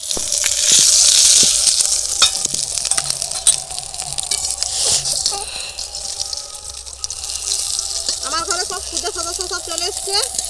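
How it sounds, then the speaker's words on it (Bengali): Small puti fish frying in hot oil give a steady sizzle and hiss, pressed down with a bowl so the sputtering swells at moments, with a voice talking over the frying. "বাটি দিয়ে একটু চাপ দিলে মাছগুলো খুব ভালোভাবে ভাজা হবে"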